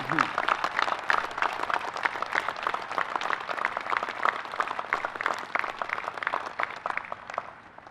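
Dense, sustained applause from a large crowd at a Coast Guard Academy Class of 2020 event in New London, Connecticut, steady clapping filling the space throughout with a slight fade near the end.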